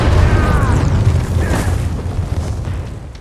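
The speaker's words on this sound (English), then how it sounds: "the carpenter Geppetto loses his son, Carlo, during an inadvertent aerial bombardment by Austro-Hungarian forces." Heavy rumbling explosions from a World War I aerial bombardment in an animated film, a loud deep boom with debris that slowly fades under low rumble.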